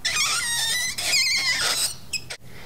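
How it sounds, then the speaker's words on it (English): Dry ice pressed against a metal spoon makes it vibrate, giving a continuous shrill screech with wavering squeals and harmonic tones that shift pitch, ending in a short high chirp. "as the gas from the dry ice is escaping the surface, it's pressing against the spoon and pushing it away"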